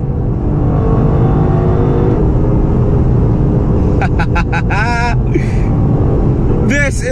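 A 2018 Lexus LC500 V8 roars loudly and continuously as it is driven, engine and exhaust droning with rising revs, and a voice briefly speaks and cheers near the end.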